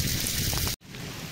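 Rain falls steadily on surfaces outdoors, a close even patter that drops out for an instant midway and then resumes a little softer, with no voices.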